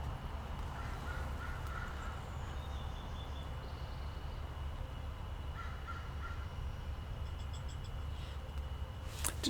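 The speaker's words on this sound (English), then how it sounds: "one of the local crows was just cawing over there" Outdoors, a local crow caws several times in short bursts from a distance, faint against a steady low background rumble.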